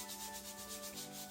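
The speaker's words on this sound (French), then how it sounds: "on utilise également notre petite brosse" A small pedicure brush scrubbing feet at home, a brief, faint, rapid back-and-forth bristle rubbing, close up with no voices.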